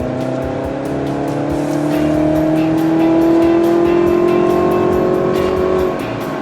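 A 2019 Chevy Camaro 2.0T 1LE's turbocharged engine, with augmented engine sound on, revs steadily upward through the gears on a track, its rising drone loud and close, with faint ticking clicks along the way and no talking.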